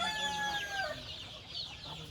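Country chickens, including mother hens, cluck and squawk close by on a farm, with short rising calls overlapping in a busy, moderately quiet farmyard chorus.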